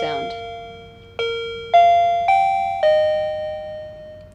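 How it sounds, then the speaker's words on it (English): An ARLEC DC685BK wireless door chime rings out a sequence of clear bell tones, four or five struck notes each ringing and decaying, loud and close in a quiet room. "Simply push the button, and the chime sound will sound."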